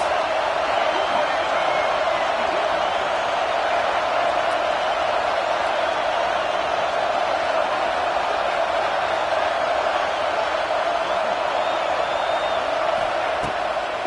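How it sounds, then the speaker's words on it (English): A steady, unbroken roar from a large stadium crowd at an LSU college football game, filling the air evenly for the whole stretch with no distinct cheers or pauses. "This crowd trying to make life miserable for this offense."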